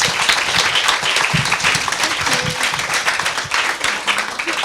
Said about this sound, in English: Can we please have a big round of applause for our speakers?